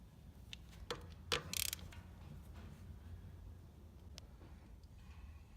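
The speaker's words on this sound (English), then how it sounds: "you should always use a 3/8 drive with the 9/16 socket" A 3/8 drive ratchet with a 9/16 socket tightens head bolts on an R2020 pump, producing a burst of quick ratcheting clicks and creaks amid quieter shop noise.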